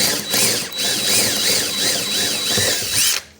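A power drill whines loudly up close as the bit grinds and chatters through material while fixing a CTS Wagon tail light, then cuts off abruptly at the end.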